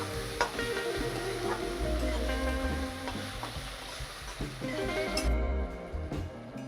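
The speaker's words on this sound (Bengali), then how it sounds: "টমেটো কুচি ভালো করে কষাবো" Chopped tomato and chili sautéed in a pan for potato curry, a steady close sizzle with repeated scraping stirs of a spoon throughout, no voices.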